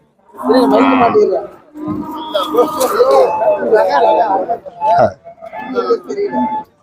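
Kangeyam calves and native cattle at the Manapparai cattle market give loud, close moos and bellows, several in a row, while traders chatter around them.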